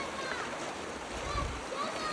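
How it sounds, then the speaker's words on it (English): A thrown stone splashes into a river at Karkucha, Kazbegi, one brief close splash about midway, over a steady rush of flowing water. "Did you saw the splash down so high?"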